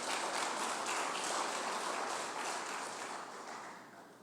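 Quiet clapping from a church congregation during a sermon, a soft, continuous patter heard at a distance that gradually tapers off toward the end.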